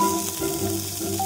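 A kimchi and squid pancake with scallions fries in a pan, giving a soft, steady sizzle close by that carries on evenly for a moment.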